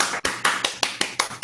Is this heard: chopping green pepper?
no